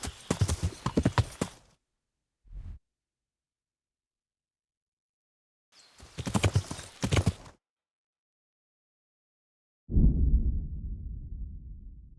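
Horse hooves clip-clop in the medieval video game Kingdom Come: Deliverance, in a couple of rapid rhythmic bursts separated by silence, followed by a lower rumbling thud that fades away.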